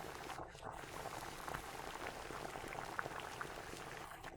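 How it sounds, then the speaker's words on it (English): Chicken stew with vegetables boils in a pot. A steady, close bubbling and crackling simmer continues throughout, with occasional brighter pops rising above the dense, even texture. "Since we added the vegetables, let's boil for 5 more minutes."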